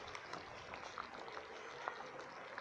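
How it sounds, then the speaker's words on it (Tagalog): A pot of rice porridge with coconut milk and ube bubbles steadily at close range, soft popping and gurgling of a thick liquid simmering with no voices. "Ayan o, kumukulo-kulo."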